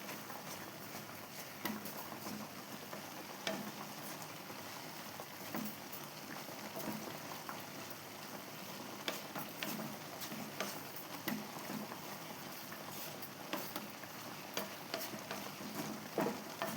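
Melted jaggery for guava halwa is stirred in a pan: soft, quiet scraping and gentle sizzle, with light irregular taps of the spoon against the pan.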